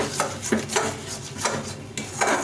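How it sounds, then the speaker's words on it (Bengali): Green chilies being stirred in a cooking pan, with a spoon scraping and knocking against the metal in about four steady, rhythmic strokes, close and moderately loud with no talking. "কাঁচা লঙ্কাটা নিয়ে একটু নেড়ে নেব"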